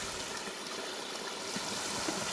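Creek water rushing through a small portable gold clean-up sluice, a loud, steady broadband wash of flowing water with no voices over it.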